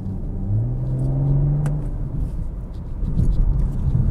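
A BMW M440i xDrive coupe engine pulls on an ordinary road with a deep, thick low rumble that swells steadily, loud and close throughout.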